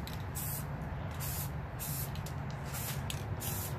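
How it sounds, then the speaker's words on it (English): Spray paint hisses from a can held a couple of inches from a wooden console table, in a series of short bursts separated by brief pauses, fairly quiet and steady. "I hold it like a couple inches away from the piece, and I just begin to just spray randomly"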